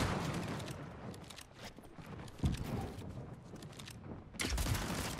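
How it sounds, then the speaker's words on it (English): Gunfire in a Fortnite match, with irregular bursts of shots crackling over busy game noise and a couple of louder impacts near the middle and end. "Vert taking some shots in on Peterbot"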